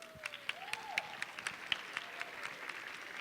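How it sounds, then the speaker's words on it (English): Sparse, faint clapping from a small workshop audience thanking a participant named Carlos, with scattered individual claps rather than a full ovation and a soft background hiss. "An applause for Carlos, please."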